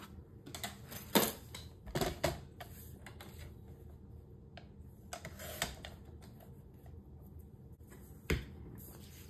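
Paper being trimmed for a scrapbook mini album page, heard as a few sharp, close snips or cutter clicks scattered over a quiet background, with a couple of louder strokes standing out.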